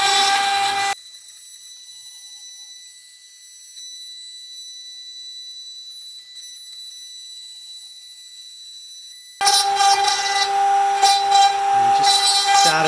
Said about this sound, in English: So here I'm just roughing out the truss rod cavity, and I roughed out the hole for the bolt.